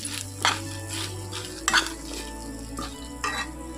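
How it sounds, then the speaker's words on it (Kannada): Rice being stirred into a sizzling pan of tempering, with three scraping stirs spaced a second or so apart over a steady frying hiss. "ಅದಾದ ನಂತರ ಒಗ್ಗರಣೆಗೆ ಅನ್ನನ ಹಾಕ್ಕೋಬೇಕು"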